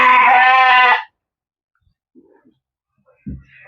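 A Bandur sheep on a sheep farm lets out one loud, close bleat lasting about a second, followed by near silence broken by a few faint shuffles and a soft thump.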